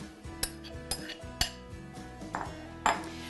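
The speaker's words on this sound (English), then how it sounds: "In my saucepan, I'm going to put 3 cups of chopped rhubarb." Chopped rhubarb drops into a metal saucepan, producing a handful of scattered metallic clinks and taps at irregular intervals, close and fairly quiet, with no talking.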